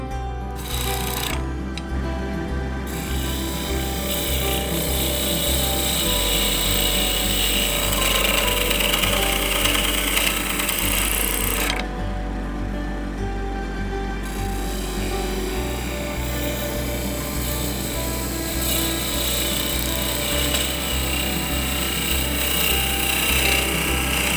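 A lathe hums steadily while a gouge cuts into spinning wood for a weed pot, producing a continuous harsh scraping, loud and close, with shifts in tone as the cut changes.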